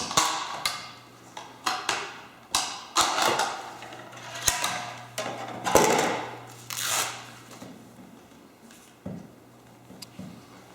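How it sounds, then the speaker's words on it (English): A Toad knee brace is worked off the leg in a run of close, sharp clicks and plastic taps, irregular at first and thinning out toward the end over faint rustling. "To accomplish this, we need to remove the brace."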